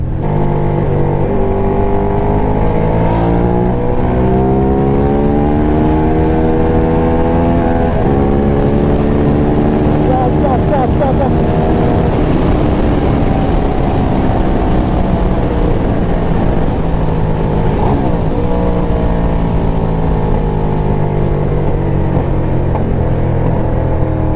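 Ducati Diavel Carbon motorcycle engine heard while riding, a loud continuous drone whose pitch rises and falls through repeated gear changes and throttle shifts, close and steady throughout.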